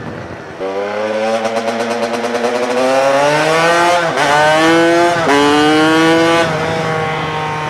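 A two-stroke engine swapped into a TNT 135 minibike runs at quarter throttle, its buzzy engine note loud and close, rising and dipping through several revs with no voices over it.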